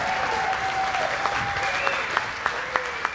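An audience at an aviation award ceremony at EAA AirVenture 2018 gives dense, sustained applause that fills the room, with a few sharper claps standing out near the end and faint voices mixed into the crowd sound.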